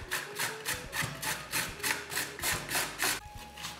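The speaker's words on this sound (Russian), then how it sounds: "Готовим начинку, натираем морковь на крупной терке." A carrot rubbed over a coarse grater for a vegetable filling, about a dozen rhythmic rasping strokes in steady succession, close and crisp, with no talking.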